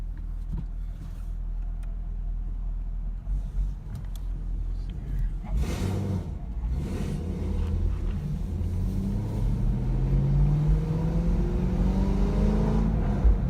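A car fitted with a ZR1 LT5 throttle body drives and accelerates, its engine rumbling steadily and climbing in pitch as it pulls harder, loud and close from start to finish with no talk.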